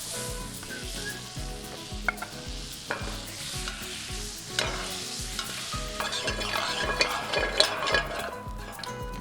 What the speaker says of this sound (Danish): Der er en god klat smør på vores varme pande.